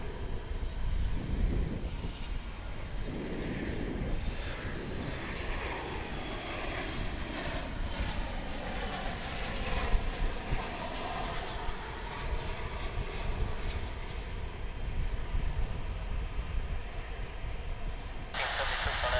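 American Airlines Boeing 737-800 arriving at DFW airport from St. Louis, a steady broadband jet roar that holds for the whole stretch, with voices talking faintly underneath.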